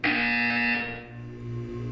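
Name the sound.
buzzer sounding in video game Portal 2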